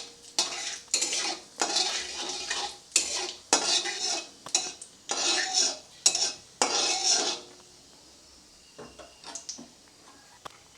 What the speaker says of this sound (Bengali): একটা শুকনো লঙ্কা দিয়ে আমি কয়েক সেকেন্ড নেড়ে নেবো এটা